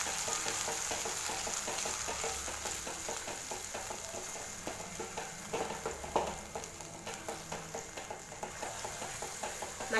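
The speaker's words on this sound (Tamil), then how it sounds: "மசாலா சேர்த்து நல்லா வதக்கி விட்டுட்டோம்." Roasted ground masala sautéing in a pan for kurumilagu kulambu, a steady soft sizzle with scraping stirs and small clinks throughout, fairly quiet and close, with no talking.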